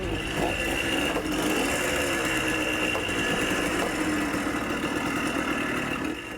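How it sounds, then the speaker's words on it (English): A 50-year-old dirt bike engine runs steadily close by, a continuous buzzing idle with a rapid even beat and no talk over it. "With the bike now running"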